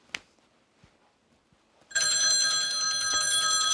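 A telephone bell rings loudly and continuously on a talk-show set after a couple of seconds of near silence broken by faint taps.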